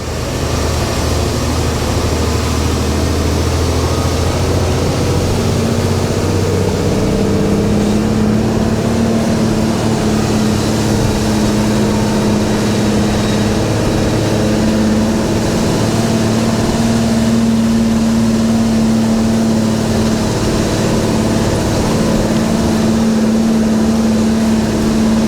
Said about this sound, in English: She's holding the revs nice and high, not changing gear at a stupid point